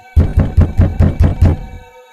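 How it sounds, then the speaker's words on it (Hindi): Knocking on a house door, seven loud, close, evenly spaced heavy knocks in a quick series, with no voices. "तभी फिर से दरवाजे पर दस्तक होती है।"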